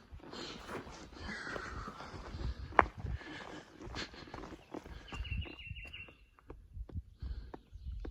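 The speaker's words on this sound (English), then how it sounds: "Some good little bit of birds." Birds sing along the Appalachian Trail: small chirps and a short trilled phrase at moderate distance, mixed with footsteps, rustling and a low hum from a hiker on the move.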